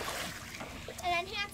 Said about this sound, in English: quit splashing